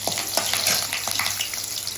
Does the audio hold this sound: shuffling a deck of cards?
no